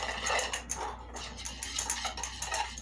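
A utensil mixing cinnamon, pepper and salt in a dish, a steady run of clinks and scrapes against the bowl, close and fairly loud, with no talk.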